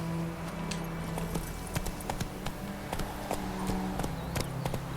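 The horse Roach trots in The Witcher 3, giving a steady run of close, crisp hoof clip-clops over a low ambient drone, with no talking.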